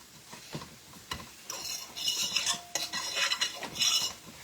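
Meat browning in a pan ahead of going into the oven: a utensil scraping and clinking against the pan, rising into a louder sizzle with stirring strokes, close and without talk.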